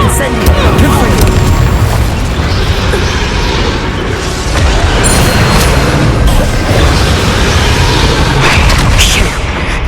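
A Confringo explosion spell in the game Hogwarts Legacy goes off in a loud, sustained roar of booming blasts and crashing debris during a fast combat sequence, with dense impacts filling the whole stretch.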